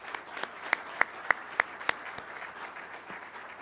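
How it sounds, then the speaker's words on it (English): Audience applause for aircraft maintainers at a pilot training graduation ceremony, heard as fairly faint, distant clapping, with a handful of sharper individual claps standing out at a steady pace over a soft crowd wash. "Please, a round of applause for all of our maintainers."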